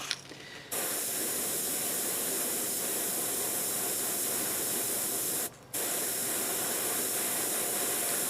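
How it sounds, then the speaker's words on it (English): An airbrush sprays paint onto a crappie fishing lure, giving a continuous loud hiss that runs for several seconds, stops briefly for the trigger release, then resumes steadily. "That's really why I'm using this airbrush. The trigger's so good on it that it just allows you to put a light coat"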